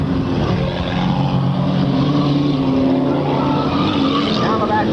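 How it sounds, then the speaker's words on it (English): Race cars roar around the oval in a Sunday Drivers Division race, a dense, continuous engine drone with whining tones, loud and steady throughout, while a commentator talks over it. "Kevin Sherwood, your race leader, as we complete the first lap 10 here at the Sunday Drivers Division"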